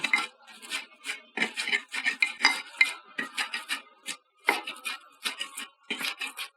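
Fried chillies and salt are mashed on a grinding stone for bharta, a steady rhythm of close, crisp scraping and knocking strokes in short bursts separated by brief pauses.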